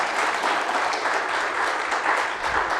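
Close, dense clapping from an audience at an Ahmedabad Management Association session thanks the guest speaker, filling the room steadily for a few seconds.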